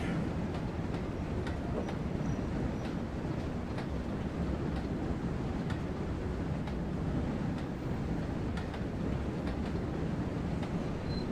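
A BR Class 08 shunter locomotive in Train Sim World's Northern Trans-Pennine route rolls along steadily, a continuous low rumble with faint rhythmic clicks of wheels on rail joints, no talking.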